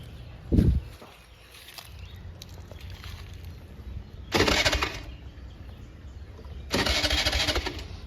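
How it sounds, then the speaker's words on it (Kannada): A scooter, parked in the sun and dirty, being started: a short thump, then two long cranking bursts of the starter that fail to catch, close by with quiet gaps between. "ಸ್ಟಾರ್ಟ್ ಆಗುತ್ತಾ ಅನ್ನೋದೇ ಡೌಟು ನೋಡೋಣ ಸ್ಟಾರ್ಟ್ ಆಗುತ್ತಾ ಅಂತ"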